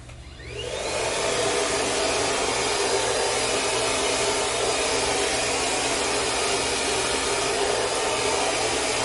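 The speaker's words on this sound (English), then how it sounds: "If your blow dryer or your desk doesn't wanna work with you" A blow dryer switches on within the first second and keeps running with a loud, steady whooshing roar and a low motor hum, close by and alone.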